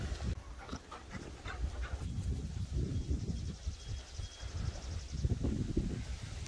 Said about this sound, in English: This is the first time she's played with the big dogs like this.